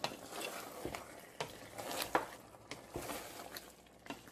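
Meat is stirred into a vegetable sauce in a pot, giving a steady soft squishing and sloshing with repeated scrapes and taps at irregular intervals, close and fairly quiet.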